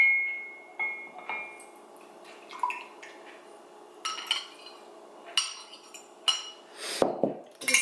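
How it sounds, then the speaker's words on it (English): Whisk clinking and scraping against a mug while mixing egg for a dark chocolate peanut butter mug cake, irregular taps and clinks close up, with a few sharper knocks near the end. "Just give that a nice whisk"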